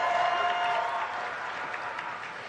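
An audience at the BlizzCon 2018 World of Warcraft panel claps and cheers, a dense, steady wash of applause from a large hall crowd that fades slightly toward the end.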